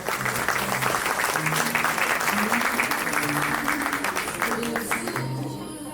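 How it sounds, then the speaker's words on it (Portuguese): An audience applauds at a real-estate talk event as a panel moderator is introduced, sustained dense clapping that fills the space and tapers slightly near the end, with a voice speaking faintly underneath. "Vamos aplaudi-lo?"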